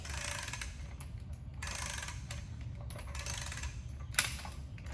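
Quiet mechanical clicking and ratcheting while a seat is screwed down by hand into a valve before torquing, with soft intermittent metallic turning sounds and small clinks, no talking.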